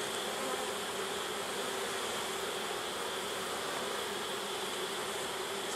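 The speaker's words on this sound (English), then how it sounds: "So there's not too many bees in this hive," Honeybees buzz in an open hive being inspected for American foulbrood, a thin colony making a dense, steady, close drone that continues without a break and with no speech.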